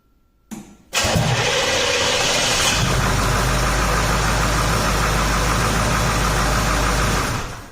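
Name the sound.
Oldsmobile 5.7L diesel V8 engine restarting and idling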